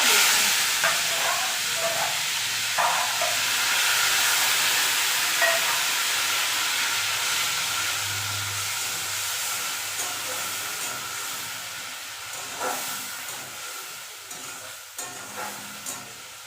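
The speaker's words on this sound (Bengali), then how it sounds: "এদিকে পেঁপেটা হালকা ভাজা হয়ে গেছে" Grated onion and tomato frying with papaya in a pan, a continuous close sizzle and hiss with occasional scraping stirs, gradually softening toward the end.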